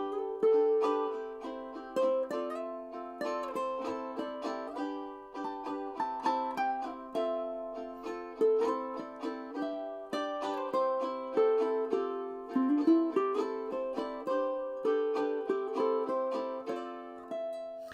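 A minor backing track for a ukulele jam: plucked, strummed chords and a melodic line play in a steady rhythm, clear and continuous, with no voices.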